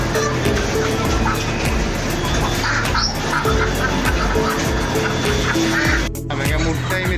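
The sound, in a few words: live chickens at a market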